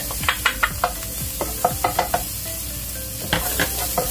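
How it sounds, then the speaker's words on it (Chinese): Shallots and garlic fry in a wok over low heat, a steady soft sizzle broken by repeated clacking spatula strokes and scrapes in quick irregular clusters, close and moderately loud. "我用細火係啦，爆香啲乾葱，跟住咧就有啲蒜蓉啦"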